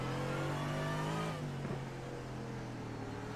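A GT3 race car on a flat circuit holds a loud, steady engine drone, then the pitch and level drop sharply as the driver lifts off the throttle, settling into a lower, rougher running note.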